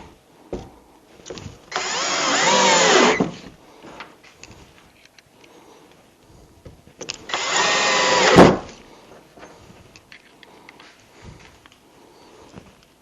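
A power drill driving screws into a wooden bench being reinforced, two loud whirring bursts of about one and a half seconds each, separated by quieter handling knocks and shuffling.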